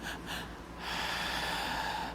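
A person imitates the gasping, wheezy breathing of an asthmatic bronchospasm with two short noisy snorting inhales, then a longer, sustained rasping breath, close and fairly quiet.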